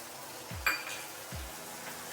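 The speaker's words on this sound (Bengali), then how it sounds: "এখনই দিয়ে দেবো এই যে আদা আর রসুনের পেস্ট" Ginger and garlic paste dropped into hot oil in a pan in a village kitchen, giving a steady soft sizzle with a brief splash as it goes in and a couple of low utensil scrapes.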